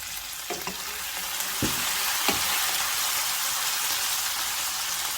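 Green onion and garlic frying in a pan: a loud, steady sizzle with a few scraping stirs near the start, no voices.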